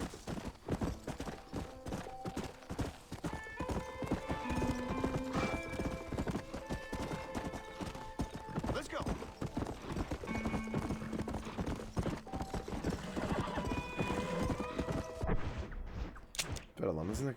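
Horse hooves clip-clop in a steady, continuous rhythm while riding in Red Dead Redemption, running loud and close throughout, with a voice talking over the gallop and tonal game sounds in the background.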